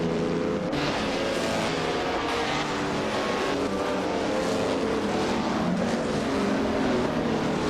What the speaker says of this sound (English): the race has just kicked off at Torpoznan reverse. On pole, we have Feskis in a 1961 Ferrari 156 F1.